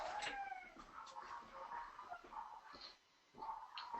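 A dog in a home setting makes a run of short whimpers and yips, moderately close, repeated irregularly across the moment with a brief quiet gap near the end.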